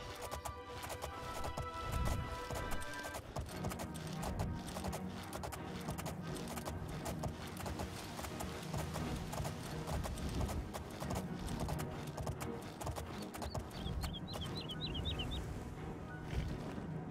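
Steady hoofbeats clip-clop at a brisk trot over a layered game soundscape in The Elder Scrolls IV: Oblivion, with faint birds chirping toward the end.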